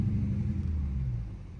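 Dodge Charger R/T, lowered and driven with no hood, giving a deep, steady engine rumble as the throttle opens, heavy low-end drone held throughout and heard close, with no voices over it.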